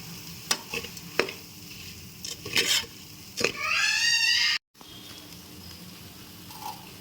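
Turmeric frying in oil for a country chicken curry, with a few sharp stirring scrapes and bursts of sizzle, then a short loud crackling hiss that cuts off into quiet.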